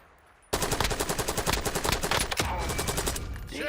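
Sustained automatic gunfire in Call of Duty Warzone bursts in suddenly, a rapid even stream of loud close shots lasting a few seconds before trailing off into game ambience.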